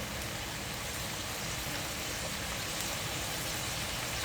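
Tamarind water boils vigorously in a pan, giving a dense, even bubbling and hissing roar that stays steady and close throughout, with no talking.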